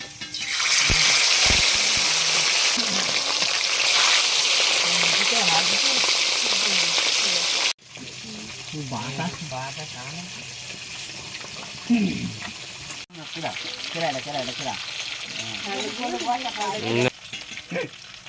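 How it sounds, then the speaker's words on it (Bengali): Fish fries in hot oil in a pan, a loud, dense sizzle filling the first several seconds, then a quieter continuing crackle with a voice talking over it. "মাছটা ভালো করে ভেজে নিই"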